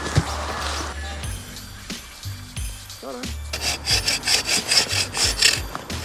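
A Christmas tree trunk cut with a hand saw outdoors, steady rasping back-and-forth strokes growing louder and more rhythmic toward the end, with a brief low voice-like sound in the middle.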